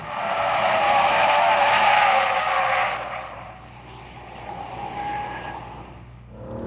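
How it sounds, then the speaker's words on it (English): Mercedes-Benz S63 AMG with its naturally aspirated 6.2-liter V8 drifting, loud engine roar with tire squeal for about three seconds, then easing to a quieter rising and falling drone as the car passes. "This is an old school, normally aspirated V8."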